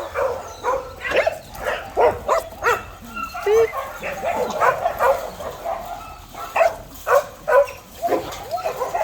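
A group of dogs at an animal shelter in Bečej, Serbia barks and whines in short bursts, some yips and whimpers mixed in, with voices talking faintly underneath.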